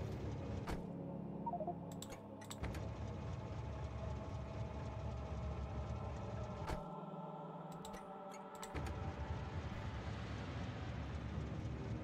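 A train runs in Factorio, the factory-building game, with a steady low rumble and mechanical hum over a constant game soundscape, broken by a few brief clicks and short drops in the low end.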